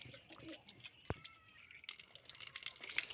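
Water poured and splashing while a pigeon water container is rinsed, irregular close trickles and drips with a sharp knock partway through and livelier splashing toward the end.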